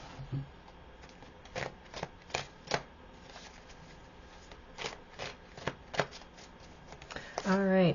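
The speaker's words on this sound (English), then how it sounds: "let's pull some tarot, and we'll see what each one of these cards is bringing through." Tarot cards shuffle close by in a series of quick riffling bursts with soft gaps between them, and a longer flurry comes near the end. Someone speaks quietly under the card sounds.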